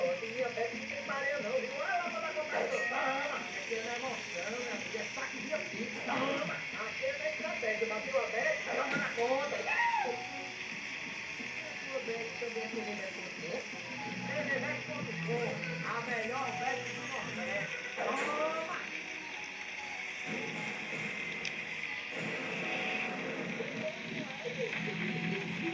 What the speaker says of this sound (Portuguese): Chovendo bastante e relampeando aqui